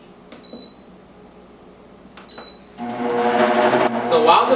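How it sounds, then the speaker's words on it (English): A blender runs on low speed, blending an apple pie mixture for mini apple pies. Its loud, steady whirr starts about halfway through, after two short clicks with brief beeps, and continues to the end. "while the blender is still blending on low"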